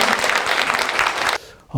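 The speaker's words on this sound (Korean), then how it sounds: "개운하게 해준 6분에게 다시 한번 박수 한번 보내주십시오" Audience applause for six speakers at a Won Buddhist practice lecture contest, a brief burst of crowd clapping that cuts off abruptly, followed by a voice starting to speak.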